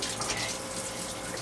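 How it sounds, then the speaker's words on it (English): Water gushing in through the propeller shaft seal of a 1977 boat while a dripless shaft seal is fitted without hauling out: a steady, close hissing rush with no pauses. "Less water's coming out now."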